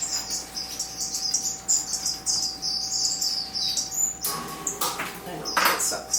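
A pet bird in an aviary squawks and chirps in repeated sharp, bright calls close by, with a person talking softly at times beneath and between the calls.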